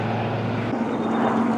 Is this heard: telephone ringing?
no